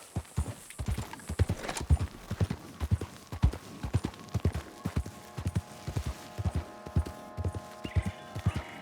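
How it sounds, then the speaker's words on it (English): Steady rhythmic clip-clop of horse hooves trotting close by in Red Dead Redemption 2, continuing throughout with faint ambient game sounds in the background. "I do love this horse."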